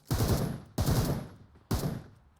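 Three loud bursts of gunfire in PUBG Mobile, each a sharp crack trailing off into a short rumble, spaced roughly evenly with no voices.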